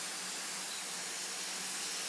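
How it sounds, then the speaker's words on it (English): A spray bottle mists water over a freshly potted plant, a soft continuous hiss held close and fairly quiet, with no talking. "I'll give this one a good spray down."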